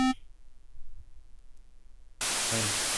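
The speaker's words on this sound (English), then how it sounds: "white noise" A brief buzzy tone fades into near silence, then a loud, steady hiss of white noise from the Alpha Ray synthesizer fills the rest.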